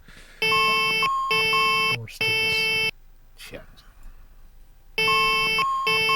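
Saab 340 master caution chime from X-Plane 11, sounding as loud, near electronic tone bursts in steady pulses, then dropping out for a few seconds of quiet background before resuming.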